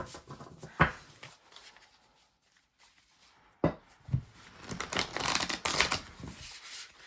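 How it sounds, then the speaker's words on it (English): Tarot cards being shuffled in short bursts of crisp riffling and soft slaps, separated by near-silent pauses, close to the microphone. "So I'm just going to shuffle a little bit."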